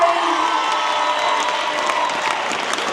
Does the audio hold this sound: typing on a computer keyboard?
no